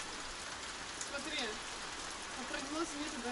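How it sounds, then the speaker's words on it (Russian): Steady rain patters across the whole stretch, a dense even hiss with scattered brighter drops, no voices. "дождь идет"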